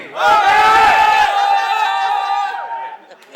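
A launch-event crowd yells and cheers loudly together in a sustained roar with shouts on top, loudest at the start and fading out after about three seconds.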